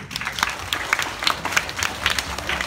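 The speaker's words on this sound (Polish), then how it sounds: "Dziękujemy jeszcze raz i brawa!" A school audience in a hall claps after a class performance at a Polish Constitution Day assembly: fairly loud, uneven clapping with distinct individual hand claps standing out from a steady patter.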